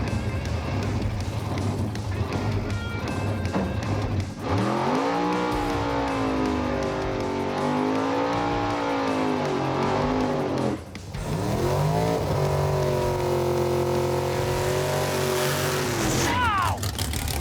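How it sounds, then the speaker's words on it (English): Blasphemi drag car doing a long burnout, engine roaring at high revs with rising and falling pitch and screeching tires, loud and close, briefly dipping before surging again. "What a burnout!"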